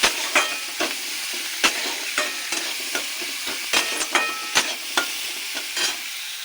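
Chopped ginger, onion and green chili fry in a pan with a soft sizzle, broken by repeated sharp spatula scrapes and clacks at an irregular pace, close up and without speech.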